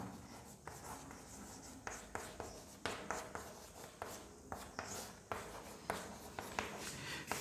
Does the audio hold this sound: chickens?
no